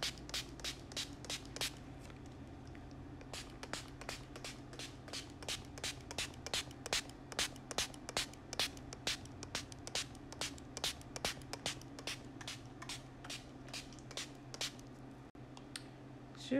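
Hair spray hissing onto hair in a rapid train of short, sharp bursts, dozens of quick pumps in steady rhythm, close and fairly loud with no talking.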